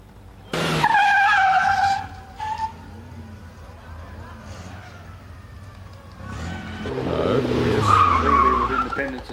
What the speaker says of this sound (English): Big smoke up from all four tyres there, Andy.